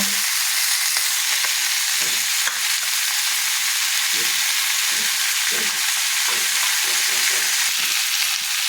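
Sautéed mixed vegetables with a cashew, raisin and poppy seed paste sizzle in a pan while being stirred, giving a loud continuous frying hiss broken by repeated scraping strokes of a spoon, with no speech.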